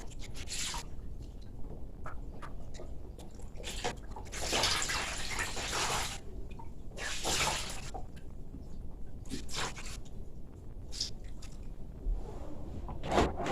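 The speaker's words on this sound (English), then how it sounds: "I try to get as much water out of them as I can. And I put them in this bucket to hang." Wet laundry wrung out by hand over a bucket, water splashing and dripping in repeated bursts between quieter stretches of squishing fabric, close by.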